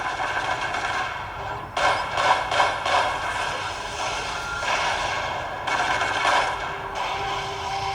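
Rapid gunfire from the Robocop Android mobile game, bursts of automatic fire repeating in rhythmic clusters over a steady mechanical background, loud and close.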